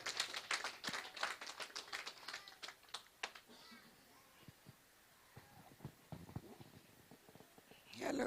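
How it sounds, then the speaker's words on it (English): A birthday and book launch audience applauds the Deputy Ambassador with a burst of scattered, fairly close claps that thin out into sparse individual claps, with voices mixed in. "A round of applause for the Deputy Ambassador."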